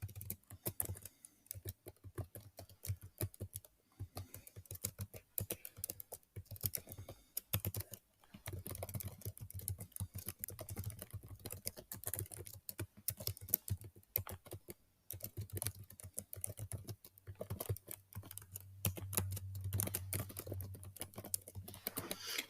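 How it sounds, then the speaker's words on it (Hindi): Steady typing on a computer keyboard while filling in an online registration form, with quiet, close key clicks in irregular bursts and short pauses, no voice over it. "तो ये आपने टाइप कर लेनी है।"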